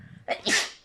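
A single sharp human sneeze, close and loud, with a short intake of breath just before it and nothing else around it.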